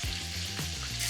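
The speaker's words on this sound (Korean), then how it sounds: "이제 기름이 지글지글 끓는 소리가 나죠" Pork stir-fries in hot oil left over from frying shrimp for tom yum soup, a loud continuous sizzle and crackle with a few clinks of stirring, and no voices.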